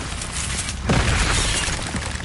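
A fire spell bursting with a deep whooshing boom in the video game Hogwarts Legacy, a single loud surge about a second in that dies away over a dense, noisy background.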